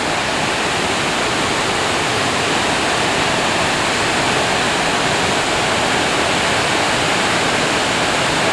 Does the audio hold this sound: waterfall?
yes